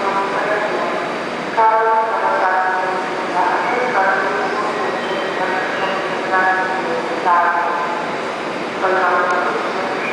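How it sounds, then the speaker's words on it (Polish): A train pulls away from a station towards Dębica, a loud steady rumble with repeated whistle-like tonal blasts rising and falling, while voices murmur underneath. "Odjazd pociągu do Dębicy bodajże."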